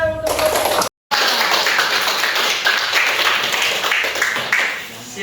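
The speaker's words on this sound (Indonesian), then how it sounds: "Beri tepuk tangan untuk Bapak." Classroom of students clapping for the teacher, a quick burst of many hands that runs on steadily after a brief break, loud and close.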